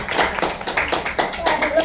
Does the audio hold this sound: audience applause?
yes